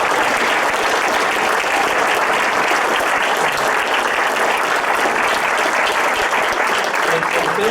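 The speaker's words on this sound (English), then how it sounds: "Let's give our panel one more round of applause." Sustained, loud applause from an audience clapping for a panel at an event about the Holocaust and liberation, a dense, even roar of hands lasting throughout.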